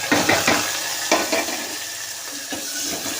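Onion, garlic and chilies frying in hot oil after popping mustard seeds, for a cowpea curry: continuous close sizzle and crackle with a few spatula scrapes and stirs, fairly loud, without talk.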